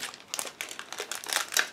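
A plastic bag holding ICM 1/16 model kit sprues is handled and opened, giving close, bursty crinkling and rustling in uneven bursts.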